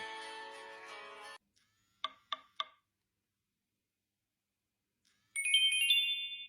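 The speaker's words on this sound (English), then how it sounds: "Polyphonic ringtone." A Nokia E71 mobile phone plays a bright, tonal polyphonic ringtone melody that starts after a stretch of silence, preceded by a few short clicks and a burst of louder sound at the start.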